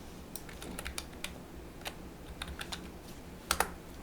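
Computer keyboard keys are pressed in short irregular bursts, single close clicks spaced apart with a quick double tap near the end, quiet and alone.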